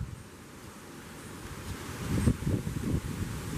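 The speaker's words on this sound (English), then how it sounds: "We have pretty good gusts." Gusty thunderstorm wind of around 60 mph buffets the microphone, a low rumbling roar that swells louder toward the end, with no voices.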